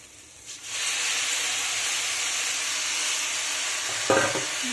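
Washed rice tipped into lentils frying in a pan for vegetarian khichuri, giving a steady loud sizzle and hiss that starts after a brief soft moment, with a few stirring scrapes near the end.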